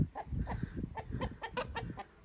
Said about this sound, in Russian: Она где-то квохчет.